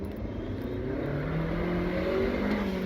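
A turbocharged Honda Civic R18 engine drones steadily with a rising induction whine as boost builds, a continuous close roar with no voices.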